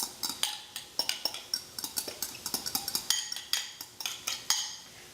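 A spoon works a thick panada of breadcrumbs and milk into Italian-style meatball mixture in a bowl, making a steady run of quick clinks and scrapes against the bowl, close and fairly quiet, with no talking.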